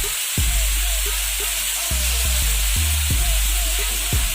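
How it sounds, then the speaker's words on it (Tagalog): Chicken pieces for milky chicken frying in a pan, a steady broadband sizzle stirred with repeated low scraping strokes of a spoon against the pan, close and continuous without speech. "Tuloy-tuloy lang sa paghalo."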